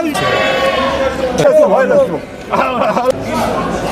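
Angora (mohair) goats about three to four months old bleat at a busy small-livestock market in Çorum, Turkey, with several wavering calls in the middle of the clip over a steady crowd murmur and nearby chatter.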